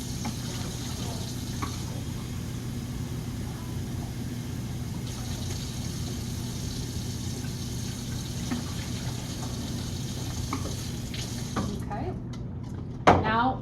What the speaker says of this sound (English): We're rinsing off the chemical before we add in the fix.